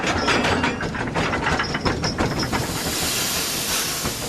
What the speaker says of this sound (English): Slowly, Edward puffed away from Great Waterton.